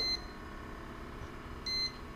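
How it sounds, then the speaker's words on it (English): Cuisinart CBK-200 convection bread maker sounding its finished signal: two short high electronic beeps separated by about a second and a half, clear over quiet room hiss. "That is the sound of the bread maker finishing up this loaf of bread."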